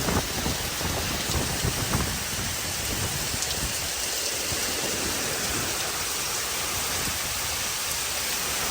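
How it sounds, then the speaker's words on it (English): Rain from an approaching storm over farmland with corn fields hisses down heavily and continuously, a dense close wash of drops that stays steady throughout, with no voices. "Oh yeah, it's raining now."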